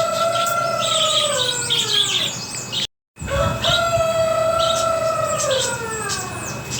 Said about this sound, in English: I have a couple roosters in the background there.